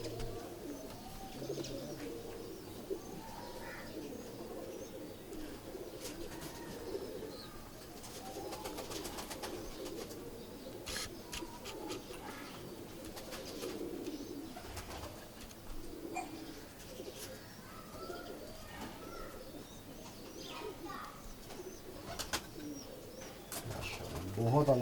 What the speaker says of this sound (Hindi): ये मामदीन कबूतर है जी